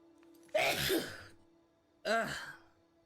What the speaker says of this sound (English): Oh god, I have a sneeze.